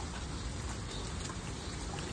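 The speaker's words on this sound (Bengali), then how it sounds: "আজকে অনেক বৃষ্টি হইতেছে আমাদের এখানে।" Heavy rain falling steadily outdoors, a dense, even wash of drops pattering on surfaces at a constant level with no pauses and no talk.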